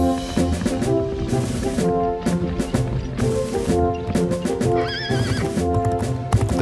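A horse clip-clops along at a trot, hooves knocking in a steady rhythm, and lets out a clear neigh midway, all set against a busy musical backing.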